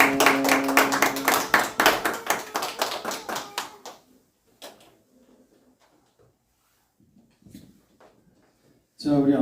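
A church congregation claps together in a fast, loud burst of applause during a Wednesday worship service for a few seconds, then it fades into a quiet room with scattered small noises.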